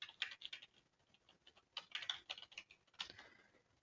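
Code being typed on a computer keyboard, a steady run of quick, light key clicks in bursts with short pauses, close and fairly quiet, with no talking.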